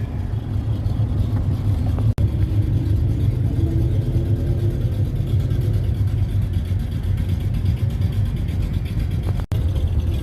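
Cars cruising slowly along a partially open road through the town of Williams, Arizona, a steady low engine rumble and road noise running throughout, close and continuous with no clear separate passes.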